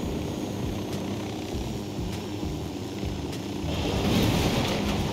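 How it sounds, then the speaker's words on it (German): A helicopter in Ghost Recon Wildlands drones with a steady, dense rotor rumble and whooshing wash that swells slightly near the end, heard alone without talk. "Hier den Hubschrauber stehlen."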